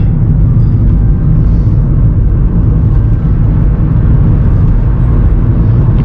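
Hyundai IONIQ Electric in sport mode pulling ahead, a loud, steady low rumble of road and cabin noise with a faint whir, no voices.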